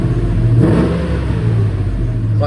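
Engine of a 1994 four-wheel-drive truck running close by, a steady loud mid-range rumble that swells slightly in a brief rev, with no talking over it.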